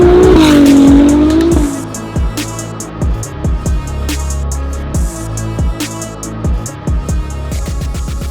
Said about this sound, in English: if you hear our 296 GTB with our exhaust system on it, you might change your mind